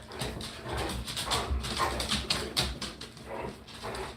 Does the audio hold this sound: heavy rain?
no